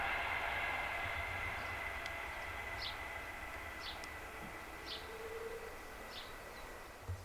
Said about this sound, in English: You can hear the railway in the distance probably